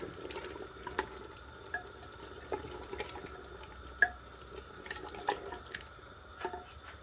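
Water runs and splashes steadily into a cooking pot of aloo gosht salan, with scattered clinks and drips over a continuous liquid wash.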